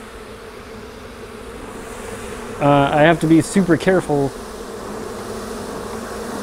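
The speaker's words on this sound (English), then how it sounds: "The bees want to get it, so they're just all over my hands." Honey bees buzz steadily and close around a beekeeper's hands at an open hive, a continuous droning hum with someone speaking briefly over it.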